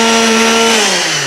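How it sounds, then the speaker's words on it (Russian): Power saw cutting timber on a house build site for a 6 by 8 m beam house with attic and terrace, a loud steady whine with a falling pitch near the end, close by and with no voices. "И пилим,"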